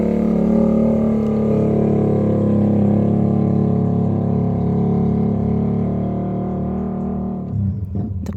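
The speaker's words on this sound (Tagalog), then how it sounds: "Na ang ingay ng motorsiklo na dumaan." A motorcycle engine drones loudly and steadily nearby for several seconds, then thins and trails off as it moves away at the end.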